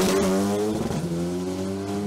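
Rally car engine heard onboard at the 2021 Dunières rally, a car of about 1080 kg: a loud, close engine note drops in pitch as revs fall, then holds a steady drone.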